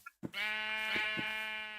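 A sheep in Minecraft bleats once, a close, clear, wavering cry that carries steadily for over a second after a brief soft click.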